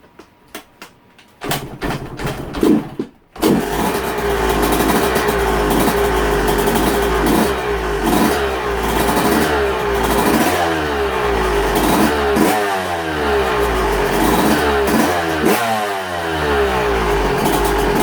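A two-stroke motorcycle fresh from a V-Force reed valve swap: a few sputtering kick attempts, then the engine catches and runs loud and close, idling and blipping the throttle in a rough, steady warm-up rhythm.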